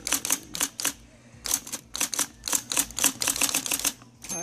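Rapid bursts of keystrokes on an IBM Correcting Selectric III electric typewriter, uneven clusters of sharp clacks with brief pauses, close and loud with no talking.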